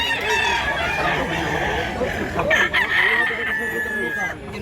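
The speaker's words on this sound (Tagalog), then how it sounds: "Dami pang manok mga idol." Many roosters crow in overlapping, drawn-out calls among a crowd of fowl at a gamecock gathering in Mantalungon, Cebu, with clucking and a busy murmur throughout.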